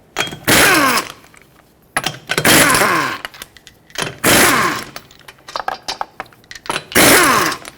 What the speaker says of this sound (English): Use a 21mm socket, remove all 5 lug nuts, and then pull the wheel off.